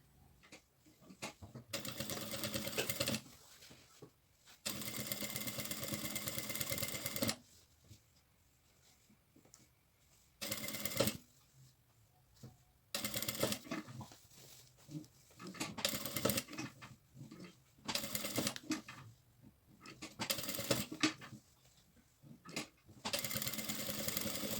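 A sewing machine stitches piping and bias binding around the edge of a fabric bag piece. Close, buzzing bursts of stitching of varying length alternate with quiet pauses, and no one speaks.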